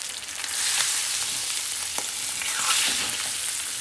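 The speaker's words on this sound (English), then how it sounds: "cook it on a medium gas, so you don't want the outside to burn, you want the fish to cook" Pomfret fish sizzling in a pan over medium gas, a steady loud crackling fry with small pops and a few stirring scrapes, heard alone throughout.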